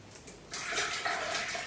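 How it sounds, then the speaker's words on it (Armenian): Water splashes as a hand is rinsed in a basin while cleaning a bird for cooking, a steady close wash that starts after a brief quiet moment and runs on alone. "մի հատ եմ ձեռքս ողողում եմ"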